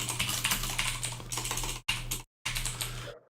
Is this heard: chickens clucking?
no